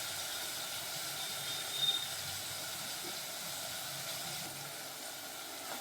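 Mixed vegetables frying in a pan on a stove over medium flame, a steady soft sizzle and hiss running evenly throughout, fairly quiet with no voices.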